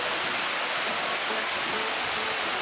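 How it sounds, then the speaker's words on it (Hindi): Waterfall beside the mountain trail on the trek to Kedarnath, a loud, steady broadband roar of falling water filling the whole clip with no voices. "वाटरफॉल"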